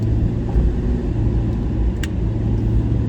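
Low, steady rumble of a first-generation Porsche Cayenne idling close by with its exhaust valves closed, a deep even exhaust drone with no talking.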